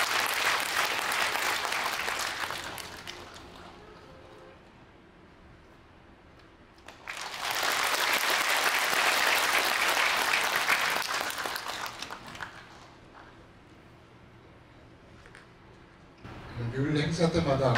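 Audience applause greets a lay association president coming onstage at a Buddhist Enlightenment Day joint service in Gwangju, two loud bursts of clapping about five seconds each, separated by quieter room sound.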